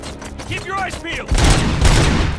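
Rapid gunfire crackles in the RoboCop: Rogue City video game, a dense burst of shots that swells louder in the second half beneath and after shouted voices.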